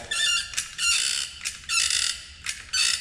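A caulking-style applicator gun dispenses a 4 to 5 inch strip of two-part panel adhesive during a car fender splice, giving repeated loud ratcheting clicks and squeaks in several bursts of about half a second, with no talking.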